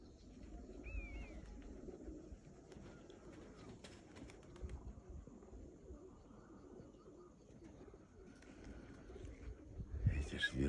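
Pigeons cooing outdoors amid steady low ambient noise, with a few brief chirps and faint background voices; a louder burst of activity comes near the end.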